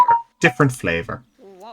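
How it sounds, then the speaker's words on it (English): A phone or tablet notification tone chimes once, short and fairly close, between bursts of casual talk in a room. "That was my phone."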